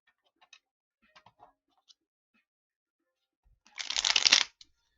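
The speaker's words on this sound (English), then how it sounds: "Honestly, Pokemon cards shuffle really well." Pokemon trading cards are riffle-shuffled by hand, a quick close fluttering burst of card flicks near the end, preceded by a few soft scattered taps and clicks in an otherwise quiet room.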